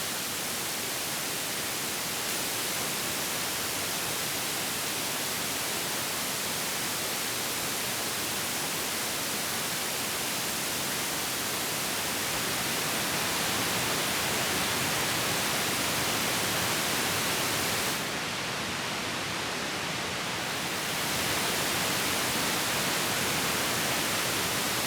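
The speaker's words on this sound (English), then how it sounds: "we can create some really layered, lovely, complex noise with the mixing board" Dense, steady hiss of layered distorted noise from a no-input mixing board with highs emphasized, a continuous loud wash that shifts slightly in tone, gaining a brighter top layer near the end.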